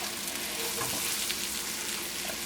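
Brazilian stew stirred in a pan, a steady loud sizzle with soft scraping as it is mixed, no voices.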